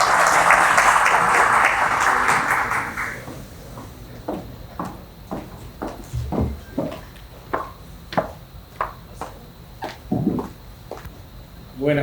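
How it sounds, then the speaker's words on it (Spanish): An audience claps at a formal book launch, a full burst for about three seconds that quickly thins to a few scattered claps and knocks, ending near silence. "Les recibimos con sus aplausos."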